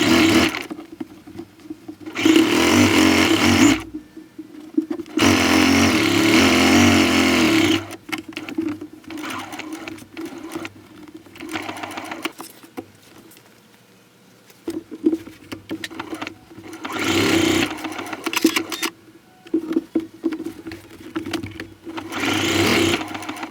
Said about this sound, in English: we're going to go ahead and get started sewing this